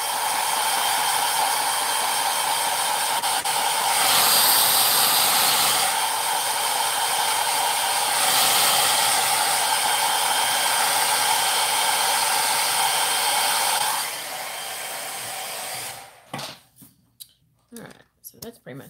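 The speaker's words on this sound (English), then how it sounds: "I'm going to take a hairdryer on low to" A hair dryer runs on its low setting, blowing as a steady close whir for about fourteen seconds with a brief surge in strength, then switches off, followed by a few soft clicks and handling noises.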